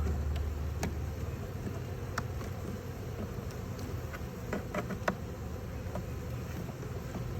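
Agitated honey bees buzz inside a five-frame nuc hive as the frames are moved. A steady, close humming drone continues throughout with scattered faint clicks and knocks.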